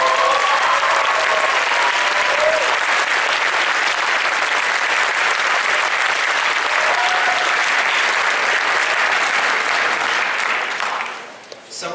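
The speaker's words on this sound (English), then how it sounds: "give a big round of applause to Nick Ayers" An audience at a school band concert claps steadily in dense, loud applause for about eleven seconds before it quickly fades out, with faint voices mixed into the clapping.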